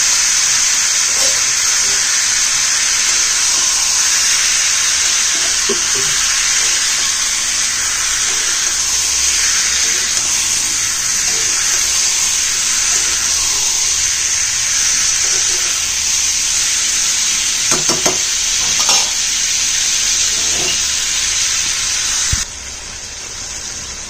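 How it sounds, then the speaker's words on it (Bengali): Meat and a little onion sizzle in hot oil in a pot for meat pulao, a steady close hiss running throughout with a few soft stirring clinks and scrapes near the end. "তাই আমি ফার্স্ট ফোড়নে আমি অল্প পেঁয়াজ দিয়ে দিচ্ছি"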